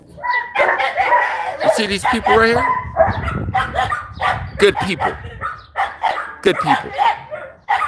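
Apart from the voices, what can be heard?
dog barking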